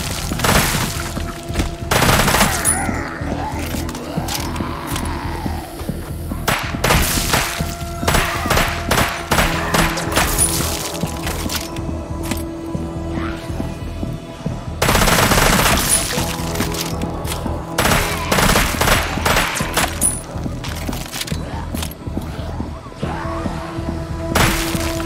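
Gunfire in the VR zombie shooter Arizona Sunshine 2, loud repeated shots in rapid bursts and single cracks mixed with thuds and crashes, dense and close throughout.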